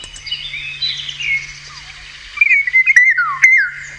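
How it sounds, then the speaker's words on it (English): A Eurasian golden oriole calls during a sunrise safari drive, a run of clear fluting whistles and chattering notes over a low engine hum, growing louder and more broken toward the end. "So Eurasian golden oriole is what we just heard calling."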